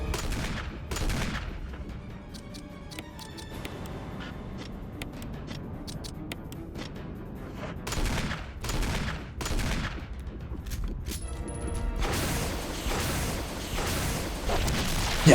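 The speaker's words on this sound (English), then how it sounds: "Rocket launcher." Heavy weapon fire and booming blasts echo through a Resident Evil (2002) finale fight, with repeated sharp reports scattered across a sustained, rumbling battle din.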